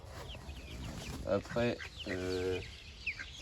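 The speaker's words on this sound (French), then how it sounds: "une poule bleue en marance et une poule noire" Marans hens, one blue and one black, clucking in short harmonic bursts close by, with a voice speaking briefly over them.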